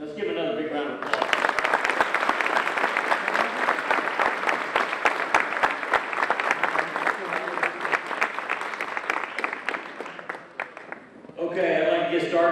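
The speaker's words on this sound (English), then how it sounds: "Let's give another big round of applause." Sustained applause fills a banquet hall at a high school football banquet, with many hands clapping densely and evenly for about ten seconds before it fades out, and a voice speaks briefly before and after.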